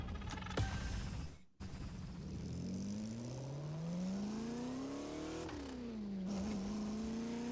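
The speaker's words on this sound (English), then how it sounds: "Oh, this is the Aston Martin, I believe." An Aston Martin engine in The Crew Motorfest racing game revs and accelerates, its tone climbing steadily through the gears, then dipping with a shift and rising again, loud and close.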